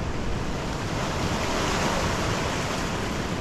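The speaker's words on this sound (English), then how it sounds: "Another wave inbound." Ocean waves break on the shore of Santa Cruz Island in the Galapagos, a loud, continuous roaring wash of surf mixed with wind rumble on the microphone, with no voices.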